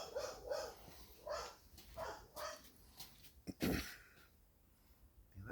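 Dogs bark in a series of short separate bursts at night, spaced roughly a second apart and moderately close, with a soft breathy pause and some quieter sounds near the end.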